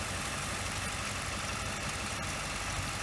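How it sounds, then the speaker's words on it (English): A 2008 Ford Explorer's 4.6L V8 idles with a vacuum leak, a steady, close rumble with faint irregular stutters and no talk over it. "You can even hear the engine or kind of see it stutter."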